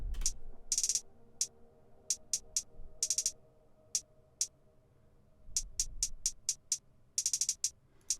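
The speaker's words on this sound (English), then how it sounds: "Next, we use the booming hi-hats." Crisp hi-hat hits in a bouncing pattern, short single ticks alternating with quick rolled bursts over a faint low kick, no voices.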